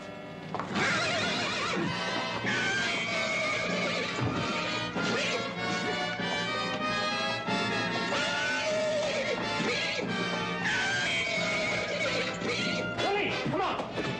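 A Western scene mixes horses whinnying with clattering hooves and crashing impacts, all loud and busy under a constant music score, with no clear speech.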